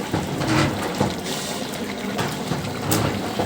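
Meat boiling in a pot over a wood fire, a close and continuous bubbling, gurgling simmer with soft watery pops and no voices.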